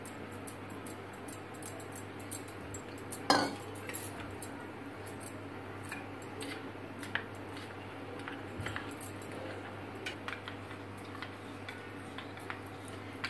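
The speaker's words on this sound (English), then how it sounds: "Add cold milk to custard powder." A spoon mixes custard powder with cold milk in a bowl, giving faint, fairly regular light clinks and taps over quiet room hiss, with one sharper knock near the start.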